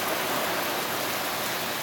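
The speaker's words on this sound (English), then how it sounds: "You can see the rain in Texas pouring off the roof, tropical storm coming in." Heavy tropical storm rain in Texas pours off a roof in a steady, dense hiss that fills the whole space with no voices.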